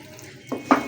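Water poured into a pot of palak gosht, spinach and chicken with yogurt, heard as a short splash and brief gush near the end after a quiet moment, close and without talk.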